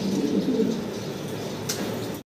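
Fancy pigeons at a breeder's loft make a soft, low, throaty coo in a short burst, close by amid a faint busy background.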